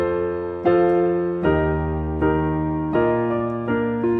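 Piano chords played in root position ring out one after another, about six sustained chords at a slow, even pace, each struck cleanly and left to decay before the next, with no talking.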